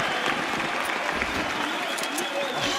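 An arena crowd cheers and applauds at a CS:GO esports grand final between Astralis and Navi at BLAST Pro Series, a continuous roar running under a commentator's talk.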